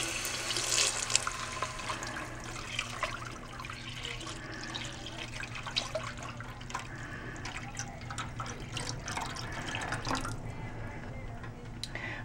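Milk pours into a pot with softened onion for potato soup, giving a continuous low splashing, liquid rush that lasts about twelve seconds at a fairly faint level.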